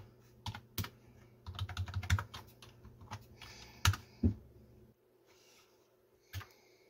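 Fingers tap out a password on a computer keyboard while setting up a Linux Minecraft server, a close run of quick irregular clicks that stops partway, followed by one last key press.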